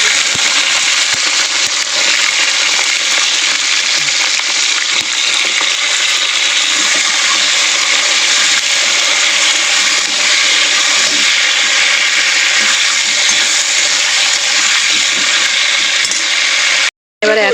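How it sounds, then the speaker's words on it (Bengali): Beans frying lightly in a black cumin seed tempering, giving a loud, steady, dense sizzle and hiss close to the pan that runs almost unbroken and drops out only briefly near the end. "শিমটা কিন্তু আমি আর আলাদা করে ভাজিনি, এই কালো জিরে ফোড়নের মধ্যে দিয়ে হালকা করে ভেজে নেব"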